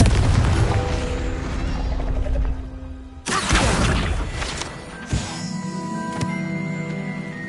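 A Confringo fire spell cast in Hogwarts Legacy lands with several loud, close booming explosions, each a broadband burst trailing into rumbling crackle and lingering magical tones.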